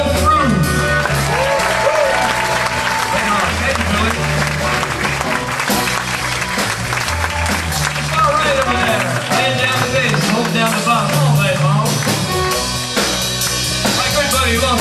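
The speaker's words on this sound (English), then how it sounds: "Would you please welcome, give a nice round of applause for his first theater show out ever, Mr. Bill Froom." An audience applauds a new piano player at a library concert, with sustained loud clapping and scattered cheers filling the whole stretch, while a voice talks over it.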